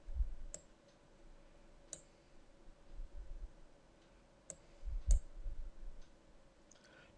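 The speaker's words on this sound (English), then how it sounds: "Click and hold the left mouse button down." Sharp computer mouse button clicks in a quiet room while a table is drawn in Microsoft Outlook 2013, about half a dozen isolated clicks spaced irregularly over a faint low hum, close and moderately loud.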